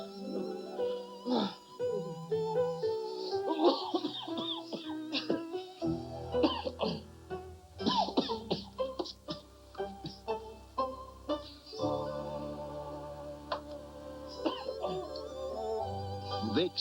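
Repeated coughing in a 1990s Vicks NyQuil television commercial, several sharp bursts spaced out over a soft musical bed, close and prominent.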